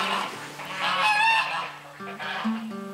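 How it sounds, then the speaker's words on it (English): Geese honk on a small homestead farm on an early spring morning, a few loud, nasal, close calls with overlapping harmonic honks that rise and fall over a couple of seconds. "the geese always take flight down to the pond for their morning swim"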